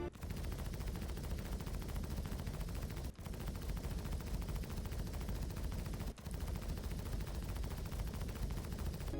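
Ship weapons firing continuously in the Star Citizen video game, a dense unbroken barrage of rapid gunfire with two brief gaps.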